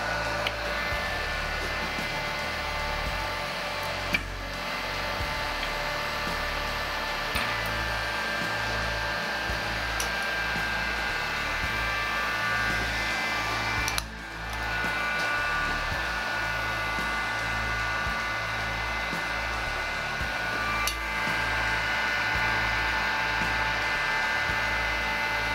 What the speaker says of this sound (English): let's turn that fan back off so they might be able to hear me